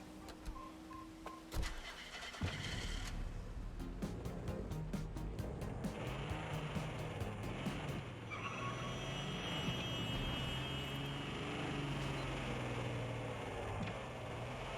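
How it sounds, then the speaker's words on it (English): Car engine of a Bogan 25 in Watch Dogs: Legion starts up and revs loudly, a rough droning roar that holds steady and rises in pitch as the vehicle moves. "Very noisy engine, this."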